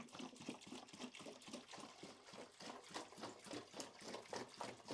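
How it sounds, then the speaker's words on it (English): Washer fluid is poured from a container into a cooler, a quiet liquid splashing with a steady rhythmic glugging pulse throughout. "I'm going to start by pouring the unfortunate looking washer fluid into the cooler"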